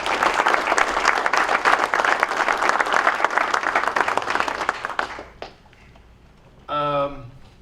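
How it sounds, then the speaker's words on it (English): A room of golfers at a Met PGA assistants' fall meeting applauds the event staff, a dense, steady clapping for about five seconds that then fades out, followed by a brief spoken phrase. "just a quick round of applause for that group in the back who make it all work."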